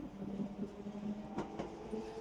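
A train passes near Kyoto Station, heard from a hotel balcony as a faint, distant rumble with soft rhythmic clatter and a couple of brief sharper clanks.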